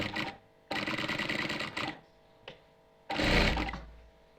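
A sewing machine stitches the sleeve of a round-neck, front-button nightie in short, rapid motor bursts, one running about a second and a later, shorter one, with quiet pauses between.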